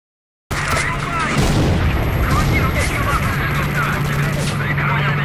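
Enemies firing on the player in the video game S.T.A.L.K.E.R.: Shadow of Chernobyl, a dense, continuous barrage of loud gunshots and booming blasts that starts abruptly and keeps going without pause.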